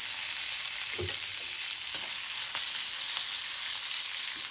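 Green chillies fry in a little oil for spicy thecha, a continuous close sizzle with a few soft stirring knocks and scrapes.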